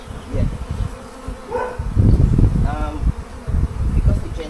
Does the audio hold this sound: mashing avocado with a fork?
no